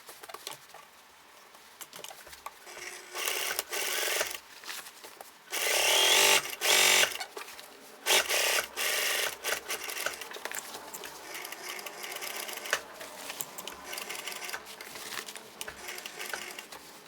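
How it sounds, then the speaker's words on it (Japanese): Domestic sewing machine with a standard presser foot topstitching the front fly opening of wide-leg trousers, running in uneven bursts of rapid stitching separated by short pauses, loud and close with no talking. "前開きのステッチを縫っていきます。"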